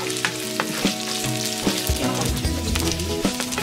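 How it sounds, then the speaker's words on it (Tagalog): White onions sautéing in a pan for sweet and sour tilapia, a loud close sizzle with crackling bursts and repeated stirring scrapes, continuous throughout. "Pagkatapos ay magigisa na tayo ng white onions."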